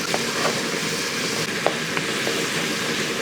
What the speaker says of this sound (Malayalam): ഇനി ഇത് നന്നായിട്ടൊന്ന് ഇളക്കി നമുക്ക് ഈ സവോളയൊക്കെ ഉണ്ടല്ലോ നല്ലപോലെ ഒന്ന് വഴറ്റിയെടുക്കും